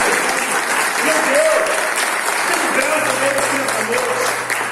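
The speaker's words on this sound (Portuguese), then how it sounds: "Se você crê nisso, aplauda Ele" Congregation applauding at a church conference, a sustained wash of clapping filling the room, with a voice sounding faintly over it.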